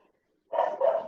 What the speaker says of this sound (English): My dog don't bark like that.